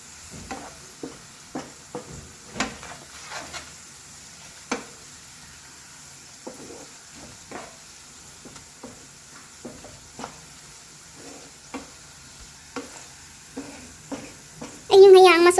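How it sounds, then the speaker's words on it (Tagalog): Onions frying in a pan for crispy fried onions, a soft steady sizzle under repeated light clicks and scrapes of stirring, close, with a louder clatter at the end. "Okay, then you can start stirring, otherwise your onion will be burned."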